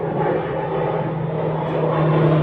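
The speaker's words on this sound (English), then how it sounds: "and of course I get a plane." Propeller airplane flying overhead above a garden in late November, a loud, steady droning hum with a low tonal buzz that fills the whole stretch without any voices.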